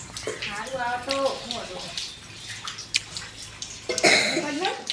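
Heavy rain pours down as a constant hiss and patter beneath people chatting, with a cough and a louder splashing burst near the end.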